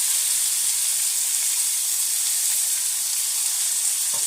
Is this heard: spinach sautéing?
yes